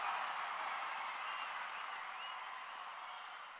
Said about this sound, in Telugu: మా మల్లికార్జునరావు గారు లేచి చప్పట్లు బాగానే కొట్టాడు